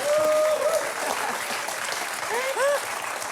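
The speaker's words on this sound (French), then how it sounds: "Et on peut applaudir Patrice Laffont qui a reconnu Coluche." A studio audience on a French television game show bursts into loud, close clapping that carries on throughout, with voices calling out over it.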